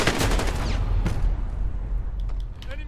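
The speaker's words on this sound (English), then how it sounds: "we're just going to kind of dump bullets" Bursts of PKM light machine gun fire in the Modern Warfare video game, loud and dense at the start and then tapering into scattered distant shots, with no talk.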